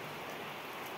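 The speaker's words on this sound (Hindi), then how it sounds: "यहाँ पर लग चुकी है बहुत ही तेज़ वाली बारिश" Heavy rain pours down steadily outdoors in a hilly area, a dense, even hiss of drops on surfaces close by with no voices.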